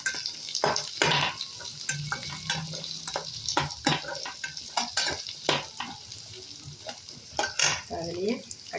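Onions sautéing in oil in a pan for Tamil garlic thuvayal, a steady sizzle broken by repeated scraping stirs of a spoon, close and fairly loud with no talking.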